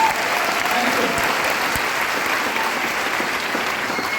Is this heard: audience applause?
yes